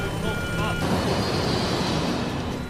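A cockpit warning alarm sounds aboard flight 5022 in an air-disaster reconstruction, steady electronic tones lasting under a second before a loud, continuous engine and cabin roar takes over.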